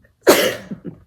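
A single sharp, loud sneeze bursts out close by, followed by two small breathy aftersounds, with no talking.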